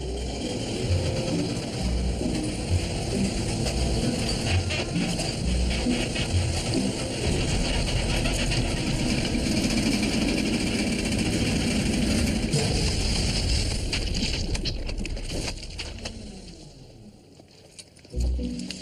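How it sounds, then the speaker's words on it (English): A made-up voice-activated pudding dispenser driven by a milk engine runs steadily at close range, giving off a loud, continuous mechanical rumble and whir that holds for about fifteen seconds before briefly dropping off. "the voice-activated pudding dispenser, powered by a milk engine"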